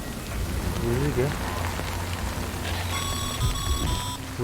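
Steady rain patters on surfaces throughout a Death Stranding game scene, with a dense hiss and a low rumble under it, while a voice speaks and a few tonal electronic notes sound toward the end.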